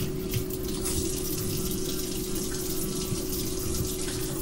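Tap water runs steadily into a kitchen sink while a hand is rinsed, a constant close hiss and splash with no pauses or voices.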